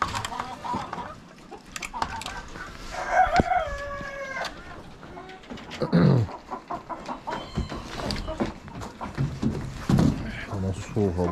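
Bantam chickens and blue-green roosters on a farm call and crow, including one long harmonic crow, amid clucking, rustling and handling noises, with a person talking intermittently close by.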